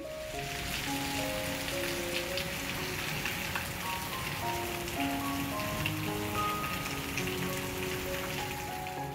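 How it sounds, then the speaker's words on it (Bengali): Steady rain falling outside a home, a constant dense hiss of drops on surfaces with no gaps, with faint tonal music threading through the background. "আর এখনকার বৃষ্টি দেখবে এমন"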